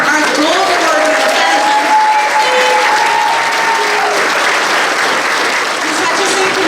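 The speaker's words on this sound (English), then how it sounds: "Another big round of applause for our gold award winners." A big round of applause from the audience at a fifth grade promotion ceremony for gold award winners, steady dense clapping held loudly throughout with some voices and a faint cheer beneath.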